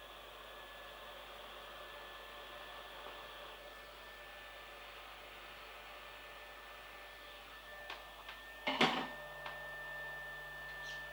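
A heat gun blows a steady, even whoosh while shrinking heat shrink tubing over wiring, with a few faint clicks and handling knocks near the end.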